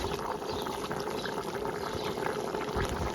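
A pot of water boils on a gentle flame while Uzbek plov is being cooked. Its steady, close bubbling and churning continue evenly with no pauses or talk.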